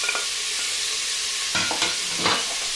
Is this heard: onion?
yes